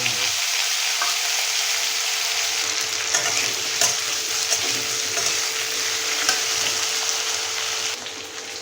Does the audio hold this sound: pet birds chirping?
no